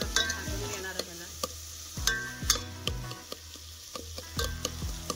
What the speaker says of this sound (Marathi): हे पावटा आणि हरभरा सोला ना त्याला छान तेलामध्ये ना मस्त भाजून घेणार आहे